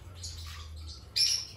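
Faint, brief chirps come from birds and chicks in a coop, a few soft tweets and then one sharper call, over a low steady hum.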